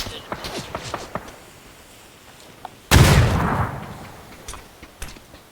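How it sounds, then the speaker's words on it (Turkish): Grenade blast in PUBG, a single loud explosion bursting suddenly midway and rumbling off for a couple of seconds, after a run of sharp, scattered gunshots and footsteps, with brief voices around it. "Bomba."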